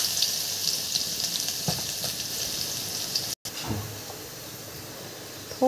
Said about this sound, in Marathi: थोडं फोडणी देऊया